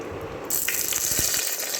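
Curry leaves hit hot oil for an egg gravy and set off a sudden loud, steady hiss of sizzling that continues alone after a quieter start.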